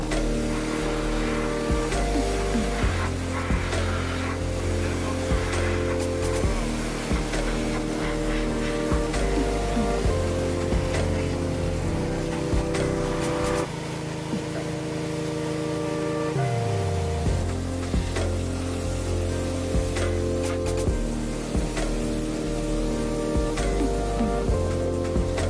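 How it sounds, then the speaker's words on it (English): A pressure washer sprays the underside of a jacked-up Volvo 240 that sat in the woods for ten years, giving a steady, continuous hiss of water over a droning pump motor for about 25 seconds with no talking. "I'm checking up the car so that I can spray the undercarriage."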